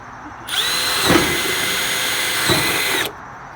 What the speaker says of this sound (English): we got the holes, each hole's drilled